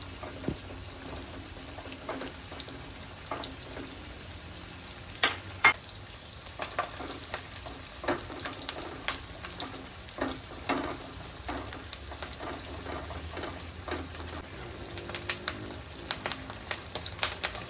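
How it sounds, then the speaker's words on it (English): Dry shrimp sautéing in a wok, a quiet continuous sizzle dotted with small crackles and light ticks of stirring for a long stretch, without speech. "In a separate wok, add dry shrimp to saute until fragrance for a minute or two."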